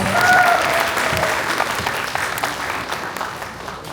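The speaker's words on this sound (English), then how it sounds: "Please give him up a huge round of applause." A large audience at a patriotic celebration held by an Indian community association applauds warmly, a dense, even roar of clapping that gradually thins without any talking.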